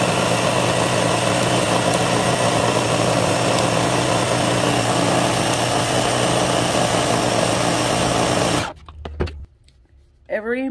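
A food processor grinds peanuts into homemade peanut butter, giving a loud, steady motorized whir that runs unbroken for about nine seconds before cutting off abruptly and leaving quieter clatter.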